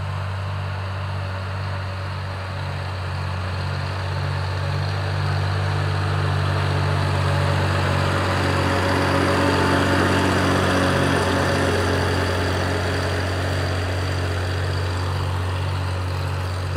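A small 1800 tractor engine idles steadily nearby with a low, even chugging drone that holds for the whole stretch, no one speaking.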